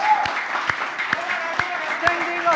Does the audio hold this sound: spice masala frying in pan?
no